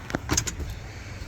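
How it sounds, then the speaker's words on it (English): A car engine idles with a steady low rumble near the Lake Erie Coastal Trail, with a few brief clicks and rattles over it at the start. "I hate to leave the car running when I do this stuff"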